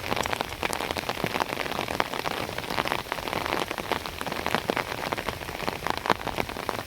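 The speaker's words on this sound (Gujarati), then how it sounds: "વરસાદ આવે છે" Steady rain pours onto a peanut field during a downpour, a dense close hiss of drops pattering on leaves and soil throughout, with no voices.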